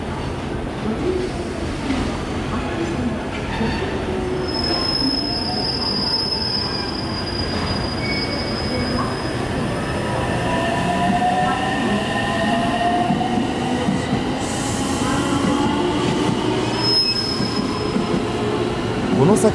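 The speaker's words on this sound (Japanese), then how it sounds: "今度は待避線に貨物列車が入ってきました。" A freight train pulls into a passing siding on a Japanese freight line, wheels squealing in long, shifting high-pitched tones over steady rumbling and rail clatter, loud and close throughout.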